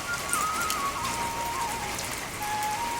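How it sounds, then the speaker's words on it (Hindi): A heavy hailstorm with rain pours down in hill farm country, a dense, even hiss of drops and hailstones hammering surfaces nearby, with a faint thin whistle drifting above the steady roar. "कितने मोटे मोटे ओले गिरने लग गए हैं।"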